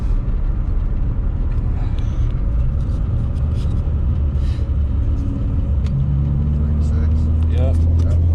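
A tuned car is driven hard through a third-gear pull during street tuning. Its engine gives a loud, steady, low rumble that builds as it accelerates, with road noise underneath and no clear talk.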